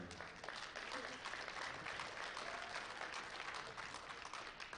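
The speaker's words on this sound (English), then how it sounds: "Photos and one more round of applause to Gary." Steady clapping from a powerlifting nationals crowd honoring a Masters gold medalist, an even wash of applause at moderate distance throughout, with a murmur of voices mixed in.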